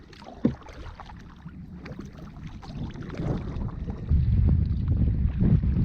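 Gusty wind buffets the microphone while kayaking in open water near a small island, a rough low rumble that builds and grows louder toward the end, with faint paddle knocks.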